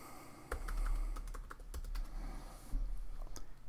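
Rapid typing on a computer keyboard, close and clear, with a quick run of keystrokes and a few louder taps and no talking.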